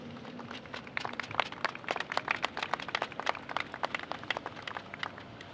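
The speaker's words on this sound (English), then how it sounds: "Can I get a round of applause?" A scattered crowd claps at an outdoor ribbon cutting for the Gillespie Gardens grand opening, a steady patter of many individual hand claps at moderate distance, lasting several seconds with no voices over it.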